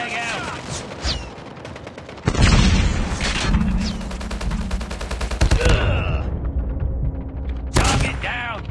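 A frag grenade in a shooter video game goes off as a heavy boom amid sustained gunfire and battle noise, loud and dense throughout, with game voice callouts heard around it.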